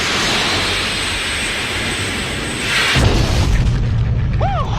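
A fighter jet fires a missile, a loud roaring whoosh followed by a deep booming burst, set over continuous jet engine noise with a faint sweeping tone toward the end.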